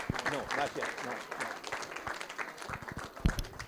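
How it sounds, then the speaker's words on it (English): Applause from the audience at a student auction at an auctioneering college, modest clapping mixed with voices and chatter, uneven and fairly quiet, with a sharper knock near the end. "How about a round of applause for that?"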